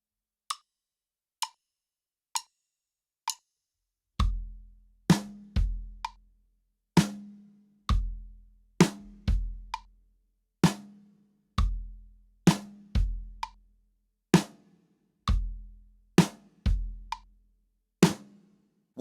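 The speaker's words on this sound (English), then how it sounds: "let's just check out the bass drum and the snare together without any hi-hat" A bass drum and snare groove played together with no hi-hat, from a lesson on a rock song. Sparse clicks count in before deep kicks and sharp snare hits alternate in a steady, close, loud rhythm.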